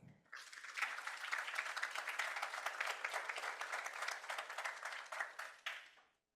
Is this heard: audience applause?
yes